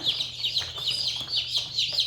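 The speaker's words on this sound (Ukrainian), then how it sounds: "Ось так виглядає курочка." Young hens, including a reddish hen, peeping and clucking in a steady, busy chatter, close by, with a low hum underneath.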